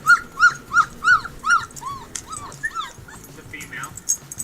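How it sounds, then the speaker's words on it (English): Husky puppies whimpering and crying close by in a series of high, rising yelps, followed by softer irregular whines and squeaks. "Let's try husky puppies crying."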